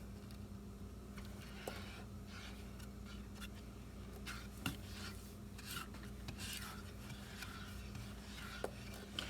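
Soft, continuous scraping and swishing of a utensil stirring yellow candy apple coating in a pot, with faint irregular clinks over a low steady hum, close but quiet and with no talking.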